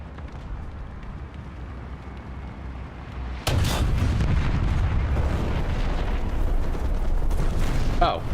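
A player character blowing up in a game, heard as a sudden heavy boom that leaves a sustained rumbling roar, followed by a brief sharp crackle near the end.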